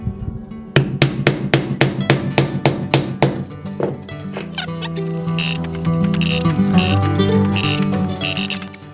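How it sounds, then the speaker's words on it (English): A press sets rivets on a Kydex knife sheath, opening with about a dozen sharp, evenly spaced clicks followed by a denser run of grinding, ratcheting mechanical noise, close and loud. "it's time to press the rivets. We're gonna turn it around, put it on the press, put the pin in there."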